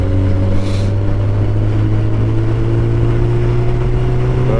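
Motorcycle ridden along the A593 Broughton-in-Furness to Ambleside road, a steady loud engine drone with slowly rising pitch as it accelerates, overlaid by heavy wind rush, close and continuous.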